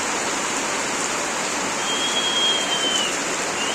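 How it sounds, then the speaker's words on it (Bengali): Heavy rain pours down in a steady, dense hiss with no break, close and enveloping. "প্রচুর জোরে বৃষ্টি হচ্ছে।"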